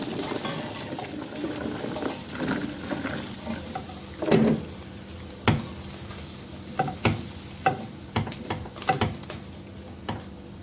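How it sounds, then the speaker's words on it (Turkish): Stirring peppers in a pot of boiling water, with a steady bubbling, sizzling hiss underneath and several sharp clinks and knocks of a utensil against metal. "Şimdi biberlerimi hemen tencereme alıyorum."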